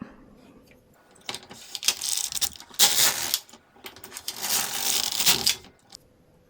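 A knitting machine carriage runs back and forth across two rows in a fresh yarn for a summer top, giving two long, loud rasping, clattering sweeps separated by brief pauses.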